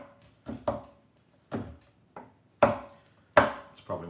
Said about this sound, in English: cut 50 grams of milk chocolate and 50 grams